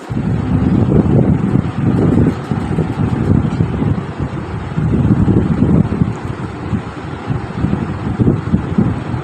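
Steady rain falling with gusting wind outdoors, a broad continuous wash that swells and eases over several seconds without a break, loud and close, with no voices.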